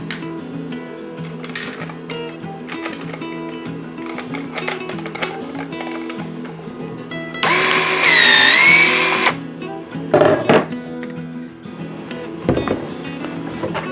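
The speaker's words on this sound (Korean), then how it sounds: "자 한번 잘라 보겠습니다" A threaded rod cutter runs with a motor whine and mechanical clatter. A loud burst of grinding marks the cut through the threaded rod, followed by a few clanks and knocks.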